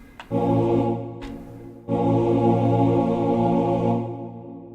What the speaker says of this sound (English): Choir sound?